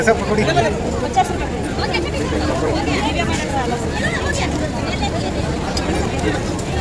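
Dense crowd chatter and hubbub at a busy Dasara gathering for food, a steady wash of many overlapping voices close by with no pauses throughout.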